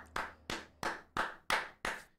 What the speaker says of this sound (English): Can we get some claps in chat?